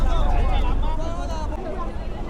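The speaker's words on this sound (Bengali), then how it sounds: "এই লঞ্চে বসে আছি চালাচ্ছে ড্রাইভার দাদা" A motor launch chugs along a river in the Sundarbans, its engine a steady low throb under wind and water noise, with people chatting nearby.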